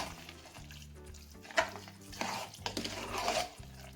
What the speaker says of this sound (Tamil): இப்போ சும்மா சிம்மில் வச்சு இதெல்லாம் செட் ஆகிறதுக்கு ஒரு கலக்கு கலக்கி விட்டுக்கலாம்